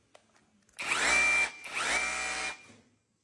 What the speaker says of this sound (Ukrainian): Це буде у нас прямий перфоратор